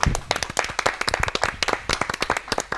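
A small group in a radio studio claps briskly for a few seconds, with uneven, close, sharp handclaps that are lively and loud and carry no talking.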